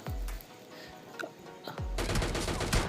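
Gunfire exchange in the mobile battle-royale game PUBG Mobile Lite, with a few sharp separate shots early on, then a dense, loud burst of rapid automatic fire toward the end.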